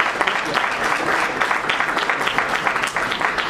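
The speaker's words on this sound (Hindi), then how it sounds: "ताली बजाएं।" Steady applause from an audience at an education award ceremony in Shimla, a continuous wash of clapping held at an even level throughout.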